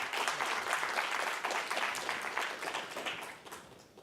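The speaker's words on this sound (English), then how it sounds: "Let's give a round of applause to the panelists." An audience applauds panelists at a rule-of-law technology panel, a sustained patter of many hands clapping that fades slightly toward the end.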